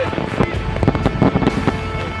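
Fireworks burst overhead in a rapid flurry of crackling pops and booms, dense and loud, layered over a rumbling wash of noise.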